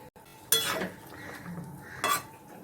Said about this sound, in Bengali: একটু ঝোলের সঙ্গে ভালো করে মিশিয়ে নেব।